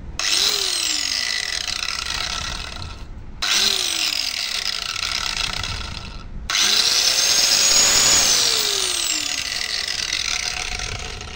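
Old angle grinder switched on three times, each start a sharp high whine spinning up to a loud steady scream, briefly cut between runs and growing stronger on the last long run, with no talking.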